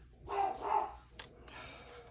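A dog lets out two short, moderately loud barks close together, followed by a faint sharp sound in an otherwise quiet indoor setting.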